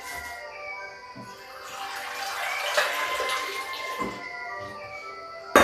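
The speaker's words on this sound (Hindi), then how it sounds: "अब देखिए इसमें पानी डालते हैं।" Water poured into a pan of simmering chana nimona curry with tomato, a steady close pouring and hissing stream that swells and fades over several seconds, with faint clinks beneath.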